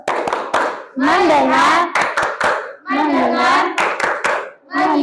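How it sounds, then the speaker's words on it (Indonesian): Children doing a rhythmic Indonesian 'focus clap' (tepuk fokus) in a classroom, sharp hand claps in quick patterned bursts alternating with chanted voices, close and loud. "Tepuk fokus."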